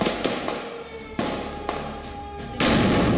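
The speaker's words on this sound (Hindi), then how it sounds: "एक जोरदार धमाका हुआ" Several sharp booming blasts, one after another, with a final loud burst from an explosive vest detonating that roars on and rumbles.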